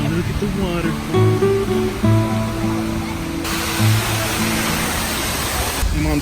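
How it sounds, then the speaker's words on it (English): A waterfall rushes at a park as a constant broadband roar, with voices talking over it throughout. "Wow, look at the waterfall."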